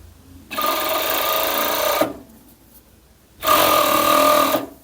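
A sewing machine stitches a collar onto children's long-sleeve pajamas in two loud, steady, close bursts of rapid whirring, with a short quiet pause between them.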